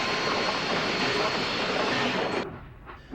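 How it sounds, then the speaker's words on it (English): An armored steel-plated train of the Anglo-Boer War era runs steadily on railway track, a loud continuous rolling rumble and rattle that cuts off abruptly near the end, leaving fainter fading noise. "the British developed the armored train"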